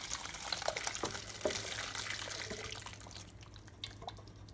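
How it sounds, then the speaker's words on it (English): Mushroom gravy is poured over beef in a crock pot, making a wet, splashing, trickling sound that thins out and tapers off toward the end. "Now it's time for us to pour in this mushroom gravy right on the top."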